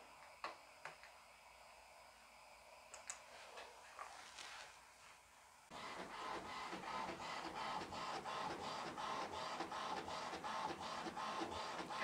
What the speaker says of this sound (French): Je suis vraiment contente de cette imprimante. Elle imprime vite.